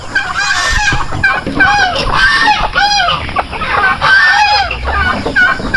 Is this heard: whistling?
no